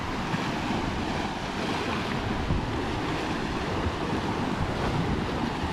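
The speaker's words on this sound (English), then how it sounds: "you can see the big trough of the waves here. So it's a very sideways swell coming through." Ocean waves surge and wash steadily with a constant broadband roar, wind noise mixed in, no voices; a sideways swell at sea during an Atlantic crossing by boat.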